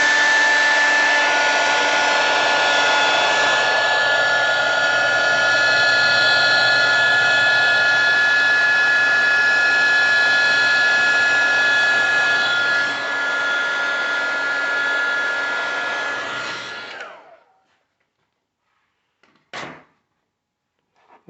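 A heat gun blows a steady, loud whooshing roar for about seventeen seconds while shrinking heat shrink tubing on a 1985 BMW 635 CSI, then cuts off, followed by a brief knock or click.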